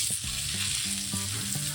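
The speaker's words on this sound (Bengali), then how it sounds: "পটল, আলু, পেঁপেটা ভাজা বসিয়ে একটু ফ্যানের নিচে এসে বসলাম ঘরে।" Pointed gourd, potato and papaya frying together in a pan, giving a steady bright sizzle throughout with a few soft stirring clicks, close and fairly loud.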